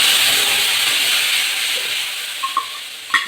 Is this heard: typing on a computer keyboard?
no